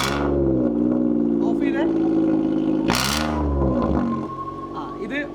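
A used car's engine is push-button started, then idles with a steady low rumble and a brief loud rise near the middle, carrying on close-up with speech heard around it.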